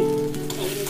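Two spoonfuls of ginger paste hit hot oil with cumin seeds tempered until reddish, giving a brief, loud, steady sizzle up close.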